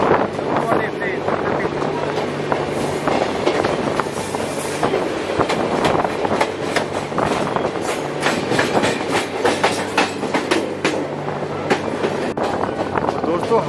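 Passenger train hauled by a Triple 164 locomotive rolling slowly into Gwalior station on the outer approach, a steady broadband rumble with faint clickety-clack from the rails and wind noise, continuous and fairly loud throughout.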